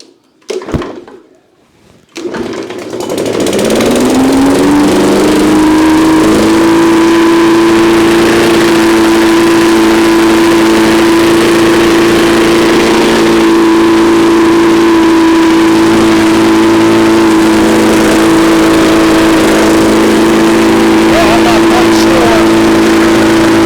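A free, previously discarded lawn mower engine gives a few sharp pull-start rattles, then catches and settles into a loud, steady, droning idle that runs close up for the rest of the clip.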